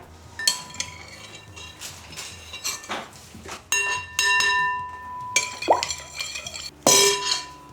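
A metal spoon clinks and clatters against pots and dishes in a series of sharp, ringing knocks and scrapes, some louder strikes leaving short metallic tones, all close by with no talk.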